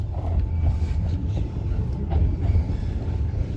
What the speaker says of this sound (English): it turned out to be the train that goes through Train Street